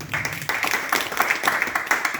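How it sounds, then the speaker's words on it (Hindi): At a Star Ayurved meeting in Gorakhpur, an audience claps in a brisk, fairly close burst of many hands that swells in small waves over about two seconds. "बहुत जोरदार ताली हो गई।"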